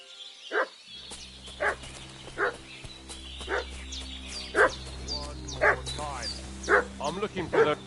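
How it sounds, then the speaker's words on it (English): A dog barks repeatedly in the video game Kingdom Come: Deliverance II, a series of sharp, evenly spaced woofs about once a second over a low ambient hum, with the barking growing slightly busier and more insistent toward the end. "What's that dog making such a fuss about?"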